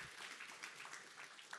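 A conference audience at a programming talk gives a short burst of quiet, scattered clapping, heard alone without any voices.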